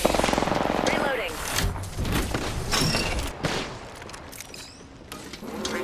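Sustained gunfire fills a shooter game firefight, dense rapid bursts and shots overlapping with other battle noise, with voices speaking over the action.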